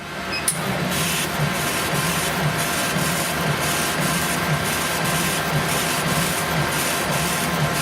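A laser engraver etching a photo onto anodised aluminium runs steadily, its motion producing an even hum with regular soft pulses as the head sweeps back and forth, with no talking.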